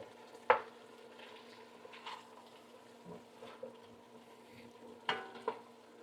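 Red wine is stirred into vegetables in a pot, giving a soft, faint simmering sizzle with wet squishing and a few sharp spoon scrapes against the pot.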